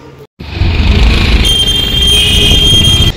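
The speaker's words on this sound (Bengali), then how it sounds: "আমাদের ট্রেন এখন জাস্ট ঢুকে গেছে স্টেশনে।" A train pulls into Budge Budge station in West Bengal, giving a steady loud rumble of wheels and carriages with a sustained high metallic squeal from the rails. The squeal comes in after a brief gap at the start.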